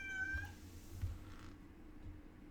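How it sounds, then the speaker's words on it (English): A cat lets out a loud, drawn-out meow near the start, then fainter sounds of cats moving and scuffling as one chases another indoors, with no one speaking. "the cats are being loud"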